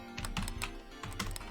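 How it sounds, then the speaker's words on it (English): Rapid keystrokes on a computer keyboard while a player sets up a profile in a racing game, irregular clicks in quick bursts, close and clear over a faint steady hum. "Type using your keyboard."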